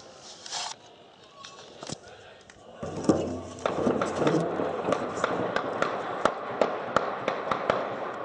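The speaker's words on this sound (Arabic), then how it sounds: "قصف على مدينة أريحة" Shelling of the city of Ariha in Idlib, Syria during heavy bombardment, heard as a string of sharp, fairly distant blasts and cracks. Some come singly early on, then a dense run of repeated impacts follows over a rumbling background, with voices faintly present.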